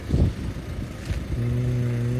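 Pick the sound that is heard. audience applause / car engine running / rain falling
car engine running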